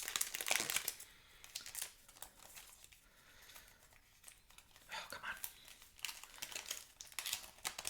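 A Magic: The Gathering single-card box topper from Zendikar Rising being opened, its foil wrapper crinkling and tearing in close, uneven bursts of crackle and rustle.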